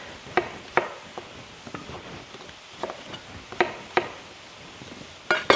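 A knife slices a red potato in half on a cutting board, giving a few sharp, separate cuts and taps with quiet gaps between them and a louder clatter at the end.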